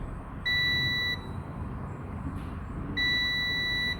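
Two steady high-pitched electronic beeps from a cable continuity tester, each lasting under a second, separated by a pause over a low background hum.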